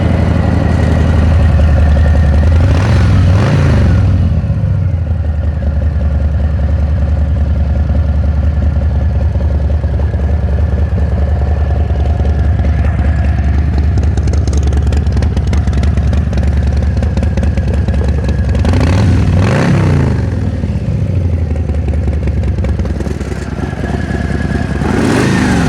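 A 2018 Harley-Davidson Fat Boy engine runs steadily at a loud, close, rumbling idle, with two sharp throttle revs rising and falling near the start and again late on.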